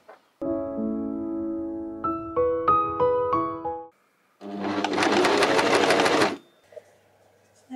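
A sewing machine hems a homemade tie-dye tee, first a tonal whirring with stepped changes in pitch, then a burst of dense, rapid stitching for about two seconds, close and loud.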